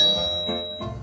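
A doorbell ding-dong sound effect played live on a comedy stage show, a clear two-tone chime that rings out loud and alone, then fades.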